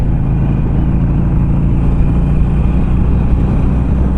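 A Harley-Davidson Sportster Classic motorcycle engine on the move, a loud, constant low rumble with steady wind roar and no clear gear changes, heard from the rider's position without speech.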